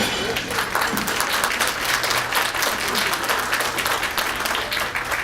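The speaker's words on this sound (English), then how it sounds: "about we start with a round of applause for that lovely meal." An awards-dinner audience applauds a meal with sustained, dense clapping from many hands throughout, close and loud with a faint background hum.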